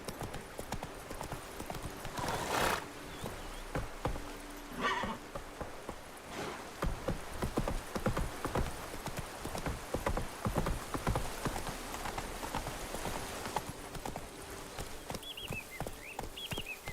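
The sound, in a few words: Roach the horse galloping, from The Witcher video game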